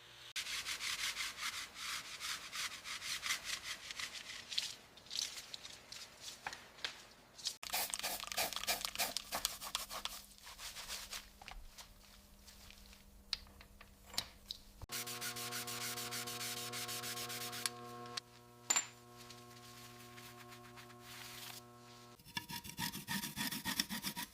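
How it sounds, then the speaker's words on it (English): Abrasive rubbing and rasping as freeze plug bores are honed on the engine block of a 1962 Corvette convertible, steady close scraping strokes in several passages with brief sharp clicks and tonal hums between them. "Now we're honing the freeze plugs, making sure the bores are perfectly smooth."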